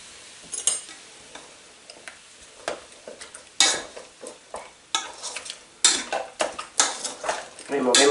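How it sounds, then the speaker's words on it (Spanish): A spoon stirs lamb stew in a pot, giving close, irregular scrapes and knocks against the metal that grow louder and busier toward the end, with no talking over them. "Removemos bien."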